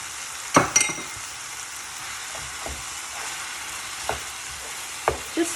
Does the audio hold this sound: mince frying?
yes